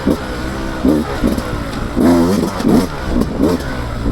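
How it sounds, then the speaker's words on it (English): 2024 Beta 200 RR Race Edition motorcycle engine revving while riding in second gear, loud close pulses of rising and falling revs in quick succession with a buzzy two-stroke tone and no speech. "This engine likes to rev out too, so even if you do run it at a higher RPM in second"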